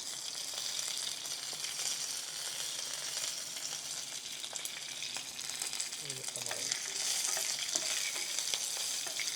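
Dried red chilies and curry leaves sizzle and crackle steadily in hot oil, a continuous close frying hiss with occasional stirring scrapes and pops throughout.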